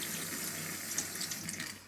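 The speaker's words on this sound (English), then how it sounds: "Let me wet this sponge as well. Soak it up in some water" Water runs from a tap onto a makeup sponge, a steady close hiss and splatter lasting throughout with no talk.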